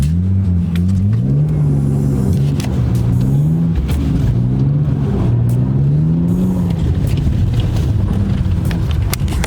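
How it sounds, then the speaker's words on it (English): An E36 BMW with a six-cylinder engine does a burnout, its loud revs rising and falling in wavering surges with gritty tire noise, steady and close throughout. "And then we can do a little burnout here."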